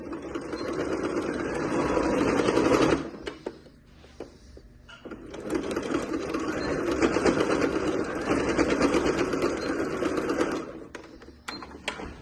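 A sewing machine stitches a reinforcing seam where a half-moon panel joins a travel bag, running in two long, steady bursts separated by a short pause, close and continuous.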